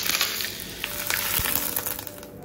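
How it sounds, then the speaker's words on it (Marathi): Mustard seeds, leaves and chilli crackling in hot oil for a tempering, a steady soft sizzle dotted with small sharp pops and ticks, fairly quiet and close, with no voices. "त्यात तेल गरम करत ठेवलं आहे, त्यात मी टाकलं आहे मोहरी, पत्ता आणि मिरची"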